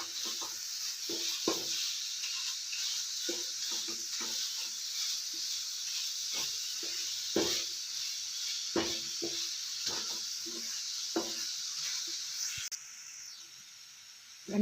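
A spatula scrapes and presses fresh coconut barfi mixture in a hot pan, giving a soft, irregular series of scraping strokes over a faint continuous sizzle and hiss, quiet and close, with no talking.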